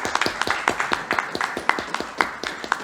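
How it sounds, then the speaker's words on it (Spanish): An audience applauds a guest speaker, a doctor, at a book presentation in a museum. The clapping is moderately close and scattered, with uneven claps through the whole stretch and a little background chatter. "Démosle por favor un aplauso al doctor Alfredo"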